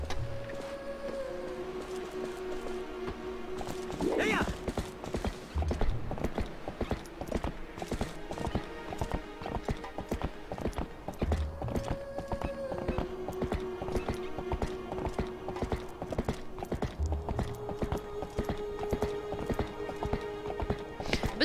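Horse hooves clip-clopping in a steady trotting rhythm in The Legend of Zelda: Twilight Princess, running continuously alongside game music with a few brief tonal accents.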